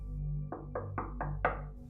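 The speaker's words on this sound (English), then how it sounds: "I awoke to a knock on the door." Five sharp knocks on a door land in a quick, slightly uneven rhythm, the last hit loudest, over a low steady hum.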